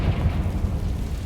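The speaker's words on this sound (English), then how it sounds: "Confringo!" Confringo blasting curse exploding in Hogwarts Legacy, a deep, rumbling blast with a rolling low boom that fades slightly over a second, close and heavy.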